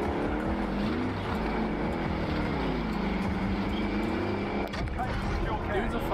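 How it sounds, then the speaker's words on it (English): An attack helicopter in Call of Duty Warzone drones with a steady, loud engine and rotor rumble, continuous and fairly close, while people talk over it. "Hostile attack chopper carrying cash. Shoot it down."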